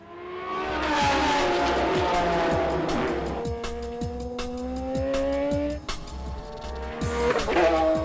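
Race car at full speed on a track straightaway, its high engine whine rising and falling as cars pass, with tire squeal and other cars audible against crowd and track ambience.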